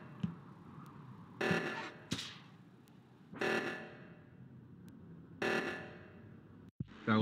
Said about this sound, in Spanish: ¿Que no quitáis la alarma o que vais a perder por la alarma